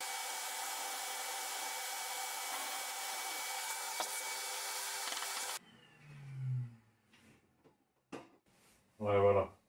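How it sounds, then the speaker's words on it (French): A power drill boring a 4 mm hole while hanging a microwave shelf on a wall runs loud and steady for about five seconds, then stops; brief clunks and voices follow. "Je vais percer à 4."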